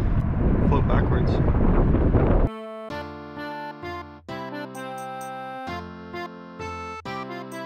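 Strong wind roars and buffets across open water on a fishing boat near San Francisco, a loud rushing gust for a couple of seconds before it cuts off and steady tonal sounds take over.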